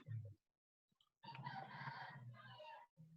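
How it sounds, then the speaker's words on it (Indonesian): A rooster crows in the background, a single drawn-out call at moderate distance, preceded by a brief clucking sound, with a short gap of near silence before it. "ayamnya masih berkokok"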